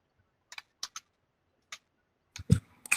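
Typing on a computer keyboard, sparse close clicks in small clusters that grow busier and louder toward the end, with no talk.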